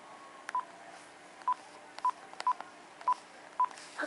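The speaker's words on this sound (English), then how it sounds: "Let's dial the number." Telephone keypad dialing: six short DTMF tone beeps spaced irregularly over about four seconds, clear and moderately loud against quiet background hiss, no talking.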